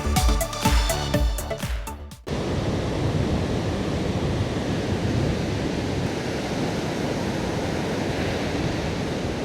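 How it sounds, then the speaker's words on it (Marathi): Rough sea waves breaking on Ganeshgule beach make a continuous broad roaring wash, loud and steady, after a couple of seconds of music cut off abruptly. "समुद्र लय जास्त खवळला आहे, मला लवकरात लवकर निघायचे"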